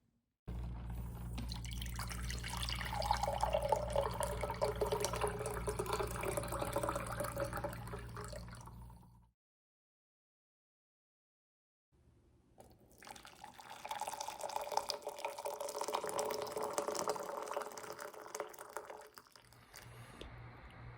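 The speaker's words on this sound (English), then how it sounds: "They were both poured from a same vessel into the same other vessel." Water pours in a steady splashing stream, stops for a few seconds of silence, then a second pour follows, slightly rougher and more trickling.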